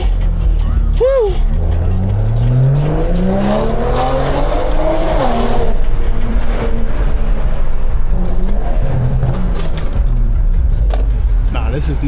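BMW performance car at a tuning shop launching hard, loud engine revving climbing in pitch with tire squeal and a rising whine, while people inside shout and cheer excitedly over it.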